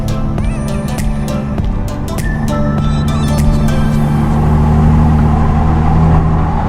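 A Mercedes SLK engine hums and gently revs while driving along a tiny, narrow marked road, loud and close, rising slightly in pitch toward the end.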